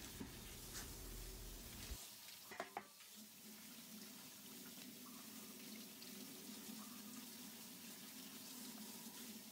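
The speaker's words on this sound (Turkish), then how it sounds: "Su yardımıyla musluk altında temizlenene kadar yıkıyorum." Anchovies are rinsed under a running kitchen tap. The water makes a soft, steady hiss and splash with a few brief handling knocks near the start. A low hum drops out early on, and no one speaks.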